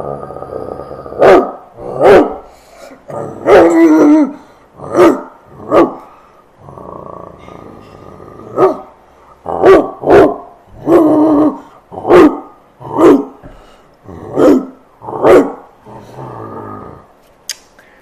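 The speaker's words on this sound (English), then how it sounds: "dog." A dog barks repeatedly in loud, separate bursts, about a dozen barks spaced unevenly, with some low growly texture between them.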